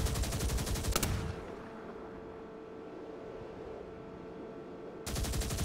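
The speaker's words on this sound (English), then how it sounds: "Press the right trigger to fire your forward weapons." Forward weapons firing in the Xbox video game Spyhunter 2, a rapid machine-gun rattle in loud bursts at the start and end with a quieter engine drone between, no talk.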